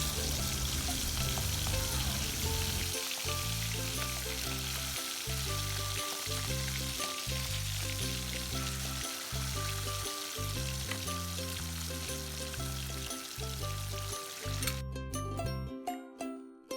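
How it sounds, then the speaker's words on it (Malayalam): Chicken liver and gizzard fry in hot coconut oil with a loud, continuous crackling sizzle, punctuated by regular spatula knocks and scrapes, fading and stopping near the end. "ഇനി നമുക്ക് കരളും ചങ്കും എല്ലോടെ ആ എണ്ണയിലേക്ക് കോരിയിട്ട് കൊടുക്കാം."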